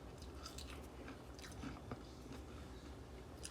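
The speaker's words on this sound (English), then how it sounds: "they're nice and crispy, still soft in the middle. Nice crunch to them" Crisp crunching bites into homemade fries, crispy outside and soft in the middle, with several close chewing crunches spread over a steady low background.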